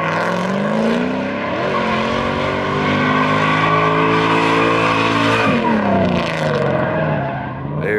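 A turbocharged, LS-swapped Mazda Miata drifts with its V8 roaring loud and steady, revs rising and falling under sustained tire squeal for the whole stretch, with no talk.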